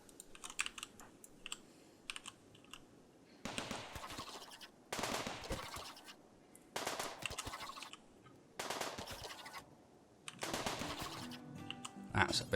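Automatic turrets in the colony-building video game Rimworld fire in rapid, crackling gunfire bursts, several separate volleys of a few seconds each, loud and close, with quieter clicking between them.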